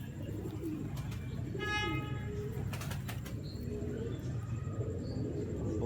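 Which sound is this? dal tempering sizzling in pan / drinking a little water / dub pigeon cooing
dub pigeon cooing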